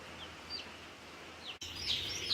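Faint high-pitched peeping of small broiler chicks in a poultry barn, a few thin chirps at first, then a louder cluster of overlapping cheeps near the end.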